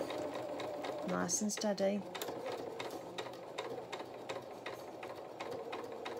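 A sewing machine reverse-stitches the neck edge of a fabric toy otter head. The mechanical stitching runs quiet and steady the whole time, with a brief bit of close speech over it.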